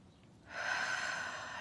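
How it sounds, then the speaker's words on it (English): One slow, deep breath during a calm morning meditation: air drawn in and released in a soft, steady airy rush, close to the microphone with no talking. "In through the nose, out through the mouth."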